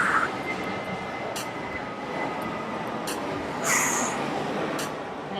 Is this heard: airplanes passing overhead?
yes